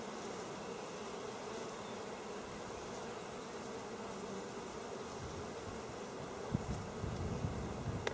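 Honeybees in an open hive during an inspection after a powdered sugar dusting, a constant dense low hum of many wings, close and steady, with faint handling bumps near the end.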